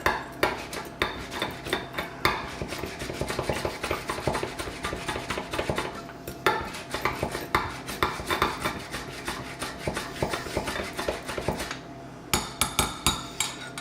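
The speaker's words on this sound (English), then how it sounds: "I want to mix that up real good with the garlic powder." Eggs being whisked vigorously with garlic powder for a Pringles omelette, a fast, steady clatter of utensil against bowl that runs nearly continuously, pausing briefly around the middle and near the end, with no voices.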